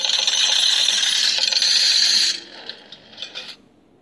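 Bright metallic coin-drop reward jingle in a mystery word game app, a dense shimmering cascade for about two seconds, then a few scattered clinks trailing off into silence.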